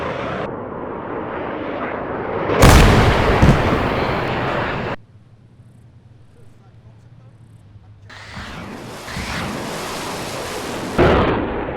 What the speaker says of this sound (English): the third 13D missile hits it with its shrapnel when its proximity fuse explodes